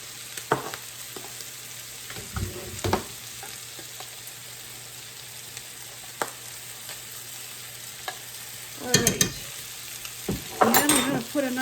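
Chopped ingredients and a spoonful of garlic cook in a pan for pizza spaghetti, giving a faint steady sizzle with occasional stirring scrapes and a few louder clatters near the end.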